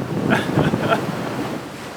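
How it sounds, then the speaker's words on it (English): Rough open ocean in six metre swells near the sub-Antarctic islands, heard from aboard a rolling boat: a steady wash of waves and wind buffeting the microphone, moderately loud with a few surging rushes and no talk. "We're out here in about 6 metre swells at the moment, and we're going all over the place."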